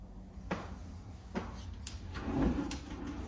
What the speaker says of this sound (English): All the soft closed doors or drawers